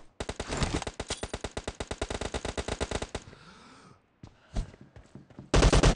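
Rapid automatic bursts from a Micro UZI in the PUBG video game, a long loud rattling string of shots followed by sparse single cracks and a closing burst.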